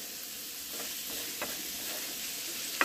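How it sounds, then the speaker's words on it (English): Tennessee Pride sausage, onion and green pepper frying outdoors on a smokehouse grill, with a faint, steady hissing sizzle and a few soft stirring scrapes, fairly quiet and even throughout. "the smokehouse out here doing this sausage and onion and green pepper for my pizza casserole"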